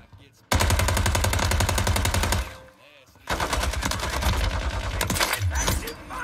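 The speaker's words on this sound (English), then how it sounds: "As soon as I saw him, I was holding down both fire buttons" Sustained bursts of automatic gunfire from the Call of Duty video game, loud and dense, with a brief lull in the middle before the rapid shooting resumes.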